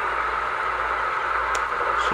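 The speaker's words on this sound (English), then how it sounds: "start the engine up" A T-34 tank engine in a tank simulator game runs at a steady idle, a continuous loud low rumble with an even mechanical drone and no talk.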